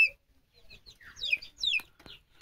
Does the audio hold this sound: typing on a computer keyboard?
no